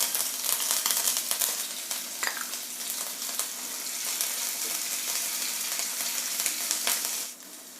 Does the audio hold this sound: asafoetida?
yes